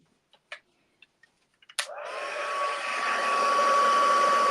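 After a few light clicks, a heat tool switches on for heat-set embossing on a stamped card and blows a steady, loud whirring hiss close by that holds to the end, no talking.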